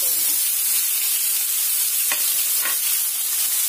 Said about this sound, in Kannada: ಹಾಗೆ ಬೆಳ್ಳುಳ್ಳಿ, ಶುಂಠಿ, ಕರಿಬೇವು, ಈರುಳ್ಳಿ ಎಲ್ಲ ಹಾಕಿ ಸ್ವಲ್ಪ ಫ್ರೈ ಮಾಡ್ಕೊಳ್ಳಿ.